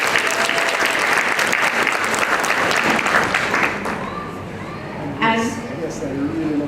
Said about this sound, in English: I'll ask that you just give him a round of applause.